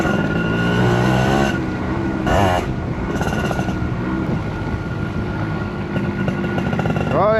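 A motorcycle ridden on a beach, its engine droning steadily with shifting revs and a couple of brief louder bursts, close and continuous.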